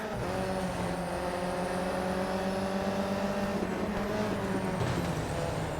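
Race cars in the mobile game Real Racing 3, including an Alfa Romeo Giulietta, roar steadily with a high engine whine that climbs in pitch as they accelerate. No one speaks.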